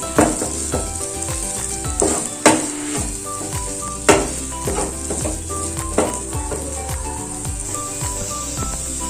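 Onions sautéing in a pan give a continuous bright sizzle, with occasional louder stirring scrapes and clinks of a utensil against the pan and no talk.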